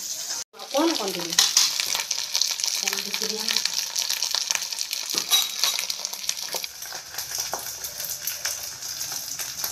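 Food frying in oil in a pan for an Assamese village-style rohu fish curry, a steady close sizzle running throughout with brief stirring clinks and a faint voice early on.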